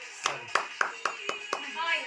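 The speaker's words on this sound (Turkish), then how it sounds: "Alkış yap. Alkış." At a child's birthday party, hands clap six times in a slow, even rhythm, each clap sharp and close, with soft voices and room sound between them and a brief murmur after the last clap.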